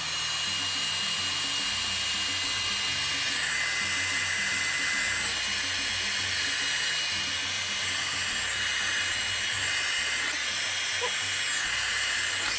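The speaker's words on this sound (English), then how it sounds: "so now we're going to once again heat this resin" A heat tool blows continuously while warming resin on a charcuterie board, a steady whooshing hiss with a faint whine that holds at even loudness throughout.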